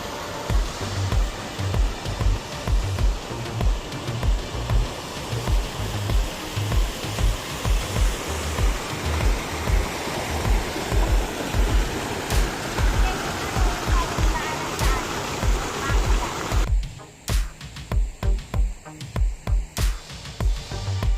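Broad, steady roar of a waterfall at the second falls of Tubuan Dam, loud and close, with dense rushing noise throughout; the sound briefly thins near the end before the torrent swells back.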